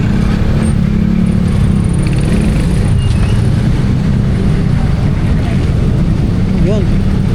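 Steady road traffic and engine rumble heard from a moving motorbike, loud and continuous with wind noise, in Philippine town traffic near an impound area; someone talks throughout.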